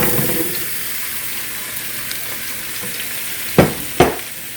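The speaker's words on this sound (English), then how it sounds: "And we're going to add all of our squash." Squash going into a hot frying pan gives a steady broadband sizzle throughout, with two sharp clatters near the end as pieces or a utensil hit the pan.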